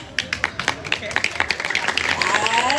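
An audience claps at a Balinese Calonarang dance-drama performance at Pura Alas Angker temple, starting as scattered, separate claps that quickly build into dense, steady applause, with voices underneath.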